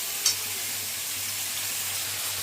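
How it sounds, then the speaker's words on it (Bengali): Garlic, crushed ginger, large onion chunks and finely chopped onion sizzle steadily in a pan for mutton keema, a soft continuous frying hiss with one brief utensil clink near the start. "তারপর একে একে আদা, ক্রাশ করা আদা, বড় পেঁয়াজের টুকরো, ছোট কুচি পেঁয়াজ সব দিয়ে নাড়াচ্ছি।"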